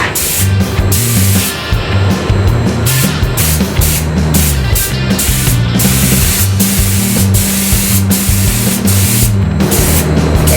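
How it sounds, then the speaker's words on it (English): A steady, loud hiss of a spray can applying a base coat continues for several seconds, broken by brief pauses and an underlying mechanical hum. "When spraying your base coat, spray 3 coats"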